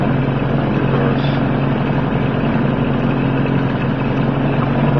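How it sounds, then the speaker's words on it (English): A 1995 Mariner 8 HP two-stroke outboard motor with electric start idles in a steady, even, buzzy drone, close and loud, with no talking over it. "See, she's idling perfectly, nice and quiet."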